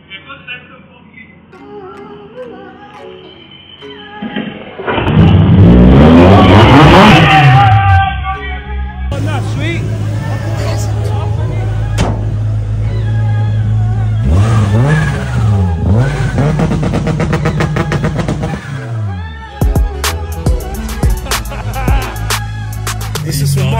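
A 640bhp Honda Civic EK9 engine revs hard in sharp, loud bursts that climb and fall, close by, with a steady idle between pulls and voices speaking over it.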